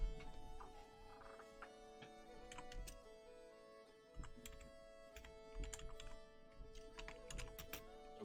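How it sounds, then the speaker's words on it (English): Soft, irregular keystrokes of someone typing on a computer keyboard, scattered taps and short bursts over a steady background hum, fairly quiet and close, no talking. "I'm going to give Jer a moment because they are typing"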